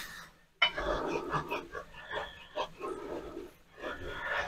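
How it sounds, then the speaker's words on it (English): A small puppy pants rapidly nearby at floor level in a kitchen, in quick, breathy bursts, with a few soft snorts; no clear bark stands out. "I have my little puppy dog at my feet, wondering what the amazing smells are."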